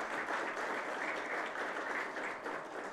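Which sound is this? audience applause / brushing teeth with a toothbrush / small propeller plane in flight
audience applause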